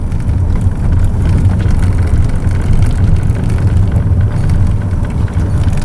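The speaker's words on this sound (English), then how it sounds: "As you can hear, rattles like a tin can full of bolts." A 1969 Chrysler Newport driving along, its body and loose parts rattling over a steady low engine and road rumble that stays loud and constant throughout, with no talking.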